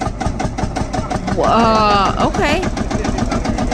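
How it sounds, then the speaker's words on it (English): A Field Marshall tractor engine, started with a shotgun shell, chugs at idle with a loud, rapid, regular thumping beat while people talk and react over it. "This is a field marshal tractor, and they needed a shotgun shell to start the engine."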